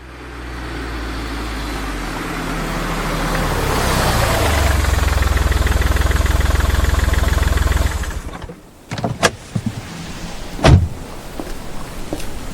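A car engine rises in a steady, swelling drone and idles loudly nearby, then stops abruptly, followed by sharp clunks of a car door shutting and a few scattered knocks.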